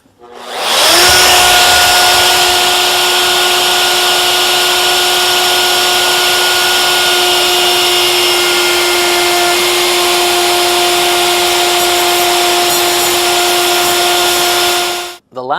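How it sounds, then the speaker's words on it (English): A router shapes the top edge of a wooden handrail made from rough lumber, giving a loud, steady high whine with a constant pitch that runs unbroken for about fourteen seconds before cutting off abruptly. "now it's time to route the top."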